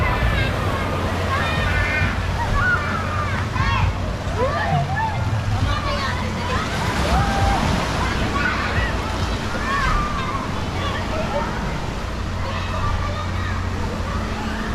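Water at a resort kiddie pool splashes and washes continuously under wind and crowd noise, while voices chatter and call throughout.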